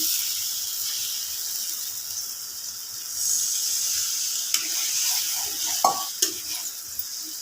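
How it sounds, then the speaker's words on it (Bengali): A little water hits hot, well-fried spice masala in a pan, giving a steady loud sizzle and hiss with a few sharp clinks of a spoon against the pan. "এবার আমি এর মধ্যে সামান্য জল দিয়ে দেব"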